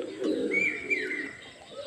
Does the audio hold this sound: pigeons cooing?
yes